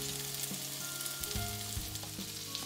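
Tofu and pork hamburger patties sizzle steadily in a pan over medium-low heat, a continuous close frying crackle with faint pops and no talking.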